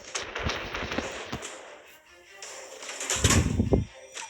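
Warship main guns firing in a naval combat video game, with several booming shots early on and a heavier cluster of loud, deep blasts near the end over a busy battle background.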